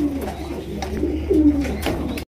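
Fancy Giribaz pigeons coo softly at close range, with several low, throaty rolling calls in quick succession.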